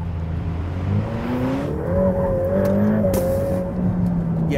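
A 700-horsepower mid-engine Ferrari F8 Tributo two-seater coupe accelerates hard, its close engine note climbing steadily in pitch as revs build, loud and continuous with no talking.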